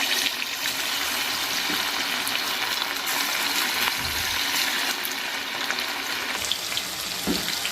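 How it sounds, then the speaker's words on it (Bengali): Pieces of chicken frying in hot oil in a home kitchen, a steady, dense sizzle filling the whole stretch, close and loud with no talk. "চিকেনগুলো এখন ভেজে নেব।"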